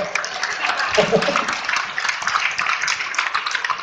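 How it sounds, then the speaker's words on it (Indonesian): An audience at an Indonesian comedian's motivational talk on sales breaks into bright, dense applause, many hands clapping at once in a continuous crackling wash throughout. "Tepuk tangan buat saya."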